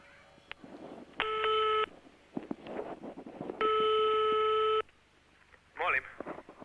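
A telephone line rings out in two long tone bursts separated by pauses, while someone speaks quietly in between and a brief chirp of electronic tone follows near the end, as a call to a phone number is placed.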